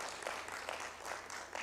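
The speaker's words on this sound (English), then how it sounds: "I think they should clap for you again because you've tried." An audience at a national dialogue on social protection claps for a speaker, producing faint, steady applause in a quiet hall.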